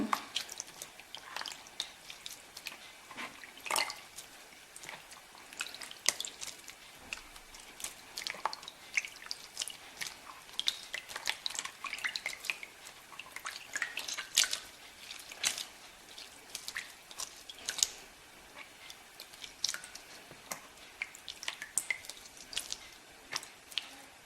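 Wet squelching and dripping as water is pressed out of soft homemade butter, with irregular squishes and trickles close by, fairly quiet throughout.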